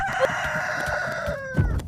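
A rooster crows in the Roblox game Deadly Delivery, a single loud, close cock-a-doodle-doo that holds steady and then breaks off, with no speech.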